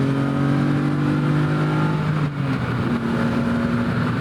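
A 1988 BMW M5 E28 with its inline-six engine runs steadily and smoothly, a loud, close, even hum with a low droning tone that holds throughout, with no voices over it.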